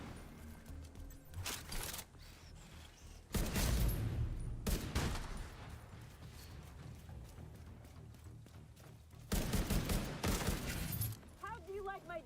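Rifle gunfire in a video game, heard as several loud bursts of shots separated by quieter stretches, with a voice talking throughout.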